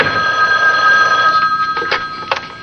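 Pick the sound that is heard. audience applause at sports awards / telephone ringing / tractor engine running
telephone ringing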